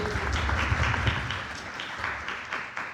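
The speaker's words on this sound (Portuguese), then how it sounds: "Palmas para ele." Applause from a seminar audience on a Vale company podcast panel, a dense steady patter of many hands with low room rumble underneath, continuing evenly for a few seconds.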